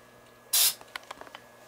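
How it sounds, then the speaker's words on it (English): Corrosion X lubricant sprayed onto the gear assembly of a TenPoint RS470 crossbow: a single loud, close aerosol burst lasting about a quarter second, followed by faint clicks and handling taps. "we'll spray it down with some Corrosion X"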